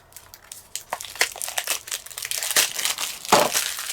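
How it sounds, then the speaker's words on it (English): Crinkly plastic packaging is pulled apart and unwrapped at close range, a continuous dense rustle and crackle that grows busier toward the end, with no voices. "Let's unwrap this."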